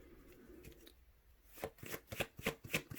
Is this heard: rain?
no